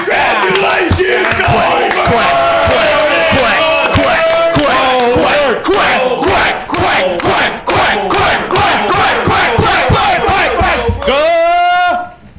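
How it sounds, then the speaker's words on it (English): A crowd cheers for Ryan Goldberg as he graduates from drug court, with loud, rhythmic, chant-like shouts repeating steadily and close, ending in a final drawn-out bellow. "Did you hurt yourself cheering for Goldberg?"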